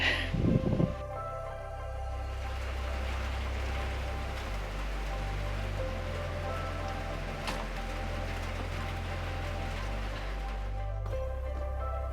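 Steady soft patter of light rain drizzle at an off-grid house build site, a continuous gentle hiss that stays even throughout, with a brief knock at the start.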